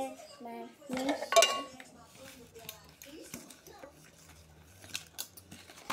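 Two spoons clink and scrape against a bowl while a mixture is beaten in a home kitchen, producing irregular metallic taps and clatters near the microphone, mixed with a voice and adult talk.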